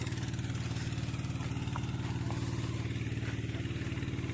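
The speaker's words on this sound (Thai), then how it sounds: "เครื่องรถไถ" A 14-horsepower tractor engine runs steadily driving a two-impeller water pump drawing from a 12-metre-deep well, a close, even, pulsing rumble with no talking.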